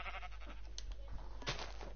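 Sheep in the Minecraft video game bleating in a couple of short, close bursts over a steady low in-game hum.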